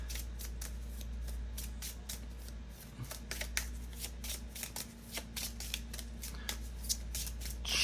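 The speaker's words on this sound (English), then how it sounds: "Let me just make sure I shuffled this deck." A deck of playing cards for a Marvel Champions card game is shuffled by hand, with repeated quick riffling bursts in a steady rhythm over a low background hum.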